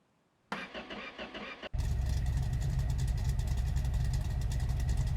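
In the My Garage video game, a car's starter cranks briefly, then the engine catches and settles into a steady, loud running drone that carries on to the end, with no voices.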